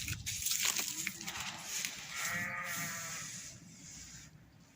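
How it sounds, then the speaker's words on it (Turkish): A single sheep bleats nearby in a wavering cry, with a person speaking briefly before it and quiet outdoor background around. "koyun bağırıyor"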